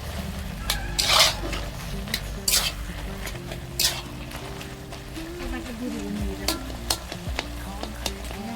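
A spoon stirs vegetable chorchori curry in a pan over sizzling frying, with several brisk scraping strokes against the metal and someone speaking over the cooking throughout.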